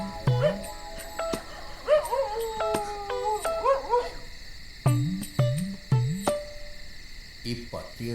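A dog howls in drawn, wavering cries mixed with short sharp barks, loud and fairly near, over a background of insect chirping.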